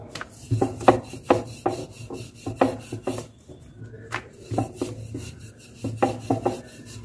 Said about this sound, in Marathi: त्यामुळे एकदम पातळ अशी चपाती लाटून घ्यायची.